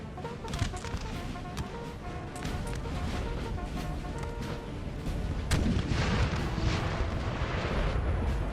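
Musket volleys from a Napoleon: Total War battle crackle and boom in dense, overlapping bursts, with a steady din of distant fire swelling louder in the second half and no talk.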